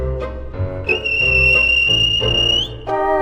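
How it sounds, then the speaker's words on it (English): A train guard's loud, sustained whistle blast sounds over the low rumble and chuffing of a steam engine, with no talking. "Then the guard blew his whistle."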